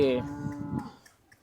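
A single Holstein Friesian cow moos nearby, a low drawn-out call that tapers off into quiet.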